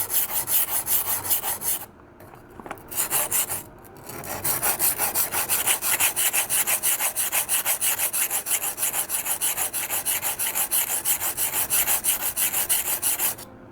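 A kitchen knife with a 3mm damaged edge and tip is sharpened freehand on a stone, giving steady, rhythmic rasping strokes that run almost continuously, broken by two short pauses early on.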